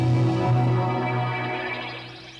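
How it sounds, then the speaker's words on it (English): On a Kurzweil K2000 synthesizer, a string sample reworked into a jungle-like patch swells as a sustained chord while a wavering, chirping high layer rises and the sound fades over a couple of seconds. "suddenly we sound like we're in the middle of the Amazon forest somewhere with birds and water just going on all over the place"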